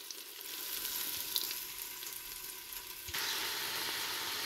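Pork neck bones fry with onion and garlic in a pan, giving a soft, steady sizzle that jumps a little louder about three seconds in, with no voices.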